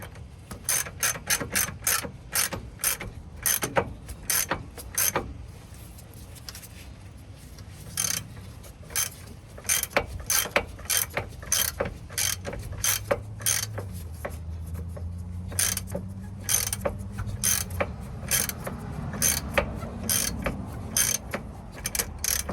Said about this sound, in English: I'm going to start tightening it